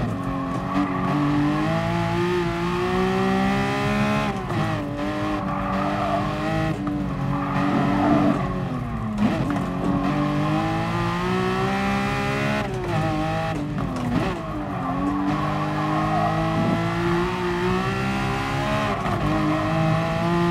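A Porsche 911 GT3 (997) engine in the video game GT Sport revs and climbs in pitch, dipping at gear shifts and surging again, loud and continuous throughout.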